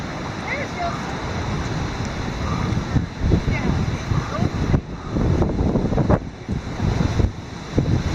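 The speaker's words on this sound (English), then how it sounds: "As you can tell, it's windy." Strong gusting wind during Hurricane Matthew flooding roars and buffets the microphone in surges and lulls, with a person speaking intermittently over it.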